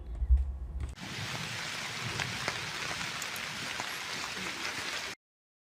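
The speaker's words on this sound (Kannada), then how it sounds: "ಕಳೆದ ಒಂದು ವಾರದಿಂದ ಕರಾವಳಿಯಾದ್ಯಂತ ನಿರಂತರವಾಗಿ ಮಳೆ ಸುರಿಯುತ್ತಿದ್ದು" Heavy continuous rain falls on the coast, a dense steady patter that starts abruptly after a brief low thump and cuts off sharply at the end.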